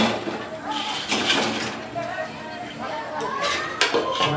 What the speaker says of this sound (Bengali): যেগুলো আগে ঠান্ডা হয়েছে সেগুলো আমি সিরাতে দিয়ে দিচ্ছি